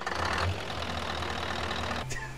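A female ankylosaurus in a video game gives a low, steady, engine-like rumble that holds through the whole stretch, with a brief higher sound near the end.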